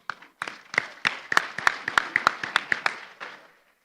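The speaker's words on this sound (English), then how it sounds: "Let's give our first speakers a big round of applause." At the opening session of a program showcase at an Indonesia-Australia exhibition, a small audience claps for speakers with about fifteen distinct, sparse claps that build briefly, then trail off into silence.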